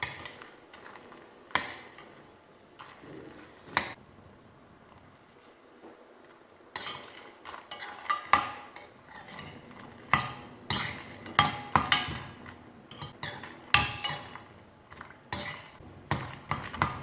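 Sun-dried buttermilk chillies frying in oil and stirred in a pan, a soft sizzle underneath irregular scraping and metallic clinks of the spoon against the pan, sparse at first and then rapid and busy.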